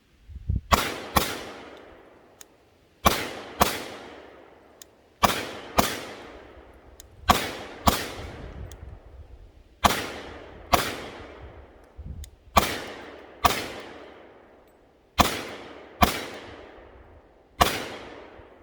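A Glock 23 pistol fires a string of sharp, loud gunshots, singly and in quick pairs, each crack followed by a short decaying echo, with no talking.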